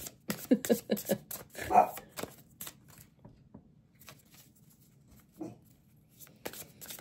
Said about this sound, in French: C'est mes petits adorables chiens qui s'expriment